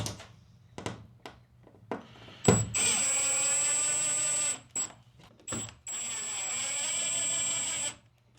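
Power drill driving screws into a cargo trailer wall, two sustained whining runs of about two seconds each, close and loud, with knocks and handling clicks before and between them.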